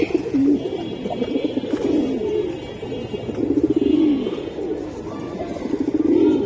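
Silver Giribaz pigeons coo in low, rolling, repeated phrases close by, with a steady murmur of overlapping coos and faint higher chirps from other birds behind.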